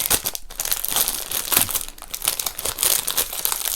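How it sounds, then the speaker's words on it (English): A crinkle pillow is squeezed and rustled up close, giving a steady stream of sharp, papery crackling with brief pauses and no voices. "The crinkle pillow's right back here. Crinkle alert."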